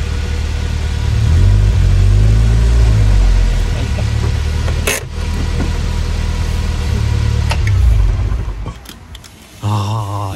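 A KTM X-Bow sports car engine runs loudly nearby, idling with a deep rumble and occasional revs, then winds down near the end, followed by brief clatter.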